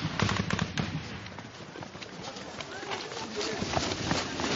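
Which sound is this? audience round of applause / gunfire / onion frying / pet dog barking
gunfire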